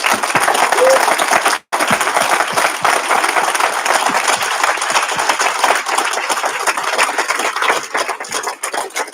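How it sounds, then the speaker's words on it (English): Loud, sustained applause from the audience at a July graduation ceremony, a thick continuous wash of clapping that holds steady with one brief dropout, with voices mixed in underneath. "I would like to honor you and stand up and applause"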